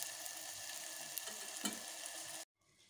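Broad beans and tomato fry in a pan, a steady close sizzle with soft stirring scrapes that cuts off abruptly near the end.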